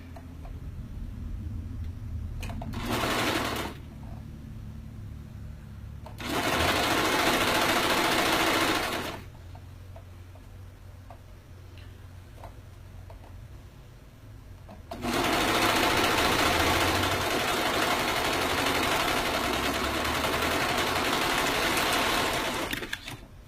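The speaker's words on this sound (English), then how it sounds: "Now we're going to line up the other side and sew it." A sewing machine stitches fabric during a live sewing session, whirring loudly in three bursts: a brief one, a few seconds of steady stitching, and then a long final run of about eight seconds, with quiet pauses of handling between.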